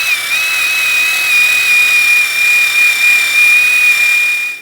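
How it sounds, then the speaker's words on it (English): Wire brush scrubbing corrosion off the front brake backing plate of a 2011-2018 Ram 1500, a steady, loud, high-pitched whining whir that holds for several seconds with no one talking. "I'm just going to take a wire brush"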